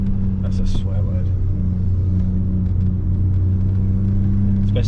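A V6 engine rumbles loudly nearby with a steady low drone and slight revving swells, heard outdoors between buildings, while someone talks over it.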